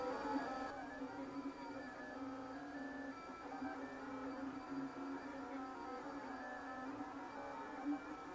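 A Lulzbot TAZ6 3D printer running a large high-flow extruder lays down fat extrusions, giving a steady, continuous motor whine with tonal stepper hum throughout, fairly close and with no talking.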